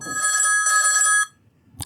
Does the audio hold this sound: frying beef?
no